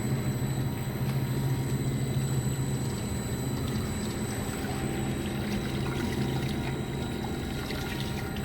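Warm water pours steadily into the pump of a keg washer and filler during a clean-in-place cycle, making a continuous rushing, gurgling flow with a constant machine hum underneath and no pauses.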